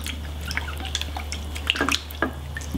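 Water splashes and drips as a cleaned geoduck clam is rinsed, scattered light trickles and droplets over a steady low hum, with no talk.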